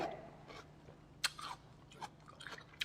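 Chilled, crunchy jicama is chewed close to the mic, giving quiet crisp crunches and bites at an uneven pace with no talking.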